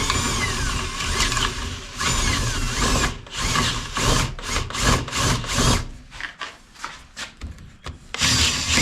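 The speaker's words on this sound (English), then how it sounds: "I'm going to try this spade bit." Power drill boring into wood with a spade bit, loud whirring and grinding in bursts that stop and restart, with rough chattering pauses toward the end.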